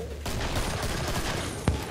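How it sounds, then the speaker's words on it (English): Hand cannon gunfire in the video game Killing Floor: a dense, noisy wash of shots with one sharp, punchy blast standing out near the end. "Yeah, and I love this hand cannon."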